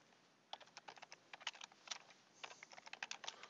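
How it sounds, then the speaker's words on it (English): Rapid keystrokes on a computer keyboard come in quick bursts of soft, close clicks, typing a short phrase into a grade book field, with no talking over them. "we're simply just going to type academic school year in that window"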